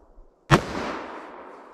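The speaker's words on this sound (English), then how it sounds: "So let's see what we got with our 44 Mag, 180 grain for velocity." A single sharp .44 Magnum gunshot firing a 180-grain load cracks loudly nearby, followed by a long rolling echo that fades over about a second.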